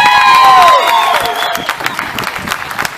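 Concert crowd at an outdoor show in Kearney, Missouri, cheering and whooping after a whistle-like shout, loud at first and then settling into a scattered, fading roar with some voices.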